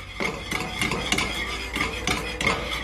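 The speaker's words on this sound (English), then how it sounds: "Keep stirring." Jamaican cornmeal porridge is stirred in a pot, the spoon scraping and knocking against the sides in a steady rhythm of about four strokes a second, close and clear.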